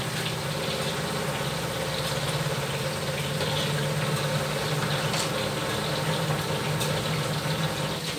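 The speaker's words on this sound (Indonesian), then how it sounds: "Ini suara mesin cuci lagi nyuci di sini, jadi di dapur itu dekat mesin cuci." Washing machine running a wash cycle in a home kitchen: a steady, close mechanical hum and whir with a faint rhythmic churning, continuous and unchanging, with no voices.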